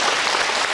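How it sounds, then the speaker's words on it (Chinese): Audience applause during a talk by a speaker in Taipei, a brief burst of dense, steady clapping from a crowd, loud and continuous with no talking over it. "来，大家鼓掌一下。"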